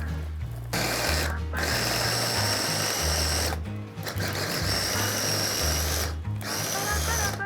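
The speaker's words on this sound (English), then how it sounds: "Put all the ingredients in a grinder, and we need to simply crush all the ingredients together." A coarse grinder crushes chickpea falafel ingredients in loud whirring bursts, motor running steadily with brief pauses between pulses, close and alone.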